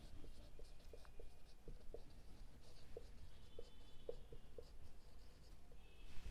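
Pen writing on paper during a class 12 accounts lesson, soft close scratching strokes in short repeated bursts over a low room hum, without talk.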